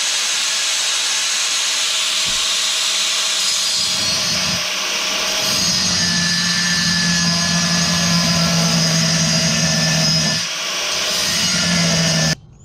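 Slots being cut in metal on a Chinese four-wheeler, a loud, steady high-pitched grinding hiss from a power tool that runs almost continuously, dipping briefly twice before cutting off abruptly at the end.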